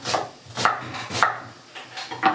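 A knife chops onions on a board for a stew, with four sharp, evenly spaced cuts about half a second apart, close and fairly loud, and no talking.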